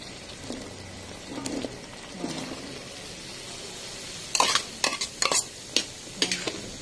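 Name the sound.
stirring sautéed chayote with sardines in a pan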